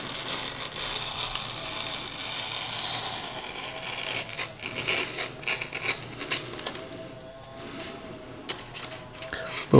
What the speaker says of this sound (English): we're gonna go ahead and do a single bevel cut on the aileron side.